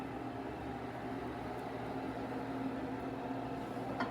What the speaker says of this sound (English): so I'll microwave this one